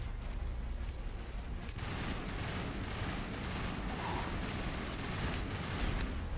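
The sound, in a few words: shotgun firing in Mass Effect video game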